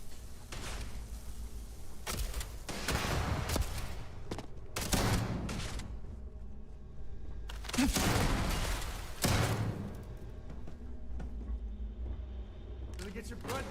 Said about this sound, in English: Who are they shooting me and from where?